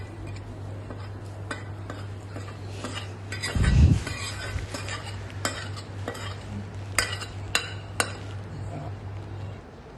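Ash gourd pickle pieces being stirred and mixed with spices in a metal vessel, with repeated scraping and clinking of a spoon and one heavier thump midway, close and steady with no talk.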